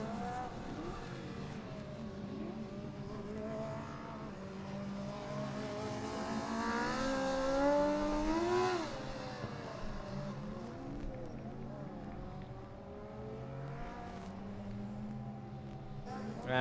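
A Formula Student race car laps the Hockenheim circuit during the endurance event, its engine rising and falling through gear changes as it passes nearby, with a commentator's voice running over it.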